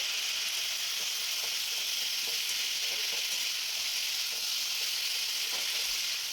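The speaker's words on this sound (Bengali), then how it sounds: "সব কিছু দিয়ে আমি ভালো করে নাড়াচাড়া করে নিলাম।" Vegetables with turmeric fry in a pan with a steady, bright sizzle throughout, broken by soft scraping stirs at irregular moments; close and fairly loud, with no talking.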